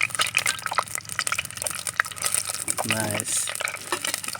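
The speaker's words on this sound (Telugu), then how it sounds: "వేడి చేసిన నూనెలో చక్కగా వేయించుకోవాలి" Boiled eggs fry in hot oil with a busy, crackling sizzle and light popping throughout, close and fairly even, with a brief murmur of voice partway through.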